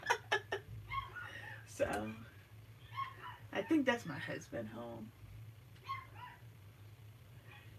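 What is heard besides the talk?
dogs barking, a Pomeranian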